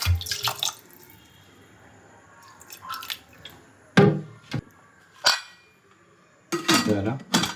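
Water is added to a pot of chicken soup, giving intermittent splashes mixed with clattering utensils and metal knocks, loud and close, with quiet stretches between.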